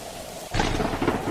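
A cartoon thunderstorm breaks with a sudden, loud thunder crash that rumbles on over a wash of rain.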